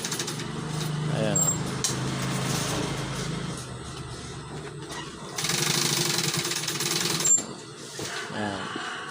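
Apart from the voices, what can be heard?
sewing machine stitching a curtain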